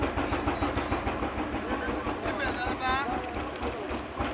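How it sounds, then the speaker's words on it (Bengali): A trawler's engine chugs steadily and loudly as the boat heads toward a river ghat, a constant mechanical drone with a faint whistle-like tone rising briefly near the end. "আমাদের ট্রলার আপনার বালিকলা ঘাটের দিকে চলে আসছে"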